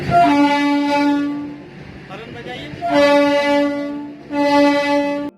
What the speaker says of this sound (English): The train operator, wanting to get on with his job, starts honking their horn.